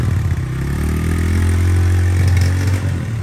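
A new 125cc motorcycle, freshly fuelled, idles loud and close with a steady mechanical clatter that swells slightly as if gently revved, then settles, with no voices over it.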